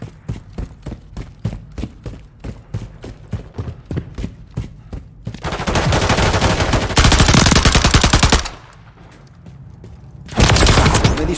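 Gunfire rattles in Call of Duty Modern Warfare III, rapid evenly spaced shots at first, then dense sustained bursts of automatic fire, a short lull, and another loud burst.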